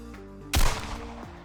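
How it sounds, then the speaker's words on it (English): A single gunshot from a video game cracks loudly at night over a steady background drone, followed by a short decaying echo. "A single gunshot shattered the night and tore straight through my leg."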